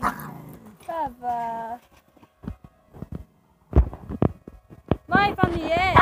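Two household dogs growl and grumble up close, with yelping bursts near the end, and a voice talks over parts of it.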